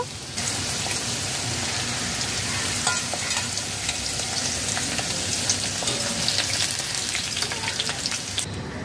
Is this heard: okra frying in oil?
yes